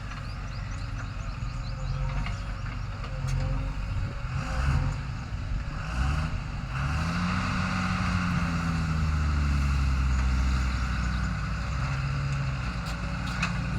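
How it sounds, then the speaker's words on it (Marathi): A truck loaded with silt dug from a lake bed starts up and drives off. Its engine rumbles close by and rises in pitch as it pulls away, with a low, steady drone continuing. "चालू केली निघाली गाडी"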